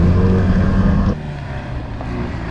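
A FIAT Panda 4x4 engine strains loudly while climbing a steep hill, then the revs drop abruptly after about a second to a lower, rougher rumble with wind buffeting.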